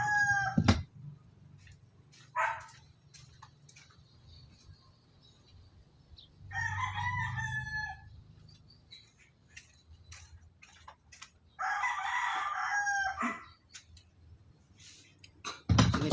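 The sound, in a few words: rooster crowing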